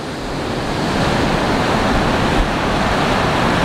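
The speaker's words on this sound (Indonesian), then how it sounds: "suara sekitar yang gemuruh ombak sama angin ini" Ocean waves crash and roll at a beach under strong gusting wind, a loud, dense, continuous roar that fills the whole stretch with no voices.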